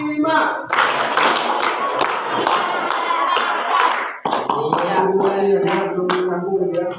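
Schoolchildren at a junior high school clap in response to a teacher's counting cue, producing sharp, loud rhythmic bursts of hand claps with a short pause before another round, and voices are heard between the claps.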